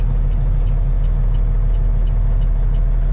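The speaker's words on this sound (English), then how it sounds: "A lot of traffic in Toulon today." Inside a truck cab in Toulon traffic, a loud, steady low engine rumble drones without break, with faint road noise beneath and no voices.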